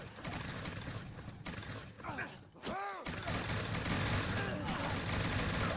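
A musket volley crackles in Mount & Blade Bannerlord, a dense mix of rapid overlapping shots and metallic clatter, loud and sustained, with a short gap partway through.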